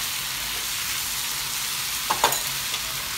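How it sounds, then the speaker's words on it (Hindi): Kung pao chicken stir-fried in a pan, a steady close sizzle throughout with a couple of brief scraping clatters of the spatula near the end. "बहुत अच्छे से स्टर करते जाएंगे कम से कम"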